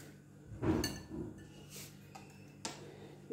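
Oil is stirred into a mixture in a bowl for a cinnamon cheese roll, with a few soft scrapes and light clinks of a spoon against the bowl, quiet and close, spaced out over a few seconds.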